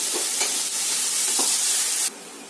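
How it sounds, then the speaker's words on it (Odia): Onions fry in a pan with cumin seeds and bay leaves for a whole mung bean curry, a loud, dense sizzle with soft stirring scrapes that drops sharply to a quieter hiss near the end. "ଏବେ ପିଆଜ ଭାଜି ହେଇଗଲାଣି।"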